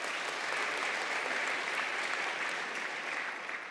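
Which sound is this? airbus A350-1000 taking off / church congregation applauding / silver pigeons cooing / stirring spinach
church congregation applauding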